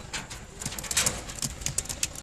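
Soft cooing of Indian Madras pigeons repeats in short bursts over a steady background hiss, with a few faint low thumps; no one speaks.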